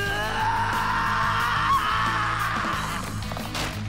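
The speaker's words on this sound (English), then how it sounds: "That was a good scream." Screaming from a character in Persona 3 Reload, loud and sustained, with one voice rising briefly in pitch over a dense game soundtrack of music and effects.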